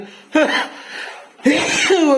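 Two sharp, voiced sneezes about a second apart, close and loud.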